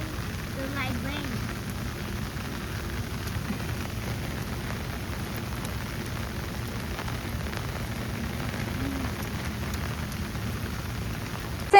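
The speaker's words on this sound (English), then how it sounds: "The light rain." Soft, steady rain patters on a surface in Canada, a light even hiss with scattered drops and no talking.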